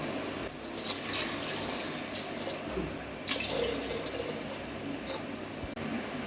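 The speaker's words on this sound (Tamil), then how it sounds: "இப்போ 2 கப்பு தண்ணி ஊற்றுறேன்." Two cups of water pour steadily and quietly into a pressure cooker pot holding rice, a continuous splashing stream with a few small knocks and clinks.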